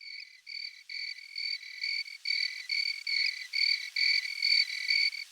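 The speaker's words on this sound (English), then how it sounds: "Cricket I was hearing?" A cricket chirps in steady, evenly spaced pulses, a bright high trill repeating about twice per second, fairly faint at first and growing slightly louder, alone with no voices.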